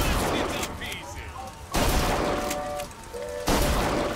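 Bursts of gunfire in the BioShock Infinite video game as a player shoots at the Vox on the skyline, loud rapid volleys in three clusters separated by brief lulls.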